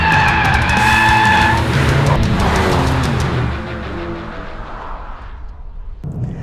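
A 2022 Volkswagen Golf R revs and accelerates hard, its engine note climbing in loud, close bursts with tire noise, then easing into a quieter, fading run.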